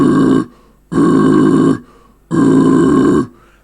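Deep guttural vocal growl demonstrated three times, each a loud raspy burst lasting about half a second to a second, separated by short silences, close to the microphone.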